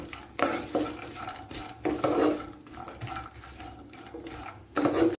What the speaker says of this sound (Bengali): কিশমিশ দিয়ে আবার আরও এক মিনিট আমি ভেজে নিচ্ছি